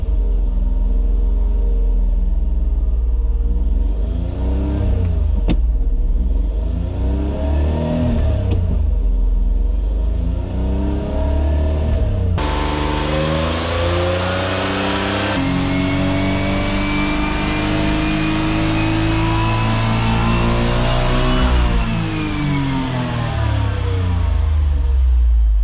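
A Suzuki Cara engine runs indoors in a garage while spinning its wheels on a lift, its note rising and falling through repeated revs, then jumping louder and harsher partway through and staying loud to the end.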